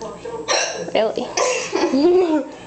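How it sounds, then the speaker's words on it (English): Repeated hiccups from a person, several short sharp catches spaced through the stretch, close and fairly loud, mixed with voiced gasps and vocal sounds. "Get these fucking hiccups away."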